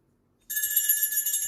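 A telephone ring sound effect cuts in abruptly on a radio show after silence, a bright, trilling electronic bell that rings continuously at moderate loudness, with no talk over it.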